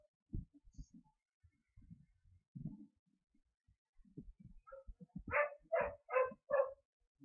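A dog barks five times in quick succession, fairly close and loud, after a stretch of quiet low murmuring and small clicks.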